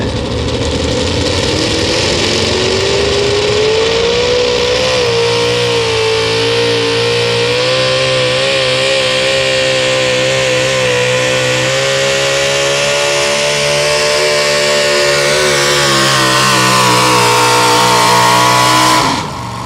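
S10 Chevrolet pulling truck at a truck-and-tractor pull in Hopkinsville, Kentucky, engine roaring loud and close at full throttle, climbing in pitch as it loads up, holding strong through the run, then dropping off at the end.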